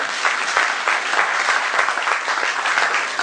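A church congregation applauds during a Sunday service: dense, steady clapping from many hands filling the room, close and even throughout with no talking over it.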